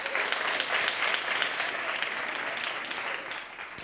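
A studio audience gives a quiz team a strong round of applause on a televised science quiz show, dense steady clapping that stays loud throughout and eases slightly at the end.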